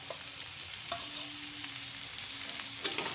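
Ginger paste and spices sautéed in a pan, a steady gentle sizzle with a few scraping stirs, close by and fairly quiet, no voices.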